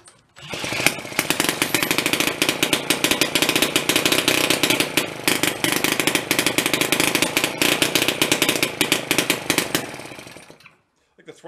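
A pre-war Elgin cycle engine that sat in a barn for at least 45 years runs with a loud, rapid, rough popping putter, rising a little as it revs, then cuts off near the end.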